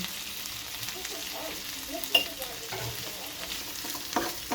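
Tomatoes and shrimp paste are stirred in a frying pan, a steady soft sizzle carrying scraping and clattering spoon strokes, with one sharper knock partway through and no talking.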